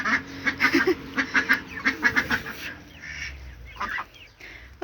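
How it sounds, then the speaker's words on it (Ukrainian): Several wild ducks quack in quick, repeated bursts nearby, a lively run of calls that thins out toward the end over faint background noise. "Дикі качки."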